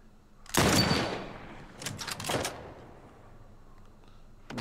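Gunfire in The Last of Us Part 1: a loud close burst of rapid shots, then a second flurry of sharper cracks, and one more shot at the end, with no voices.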